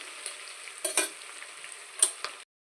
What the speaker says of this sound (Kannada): ಈ ಥರ ಕಡಿಮೆ ಫ್ಲೇಮಲ್ಲಿ ಇಟ್ಕೊಂಡು ಚೆನ್ನಾಗಿ ಸ್ವಲ್ಪ ಗೋಲ್ಡನ್ ಕಲರ್ ಬರೋ ತನಕ ಈ ಥರ ಫ್ರೈ ಮಾಡಿಕೊಳ್ಳಿ